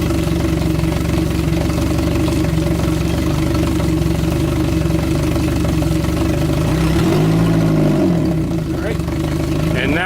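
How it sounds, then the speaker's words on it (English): Engine of a 2003 Bennington 2275 FSI pontoon boat revving in forward gear, a steady loud mechanical drone with a brief pitch swell and dip near the end. "we're going to give it a little more gas forward"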